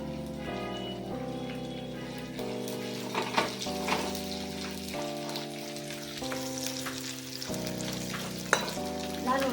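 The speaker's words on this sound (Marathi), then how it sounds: "नंतर कांदा चांगला लाल परतून घ्यायचा." Onion frying and being stirred in a pan, cooked until browned, with a continuous sizzle and scraping stir strokes under a sustained background tone, no talk.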